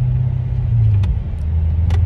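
A custom 2009 Chevrolet Corvette C6 on a test drive on a 37-degree day, heard from the cabin as a steady, deep engine and road rumble that holds even throughout, with a few faint ticks above it.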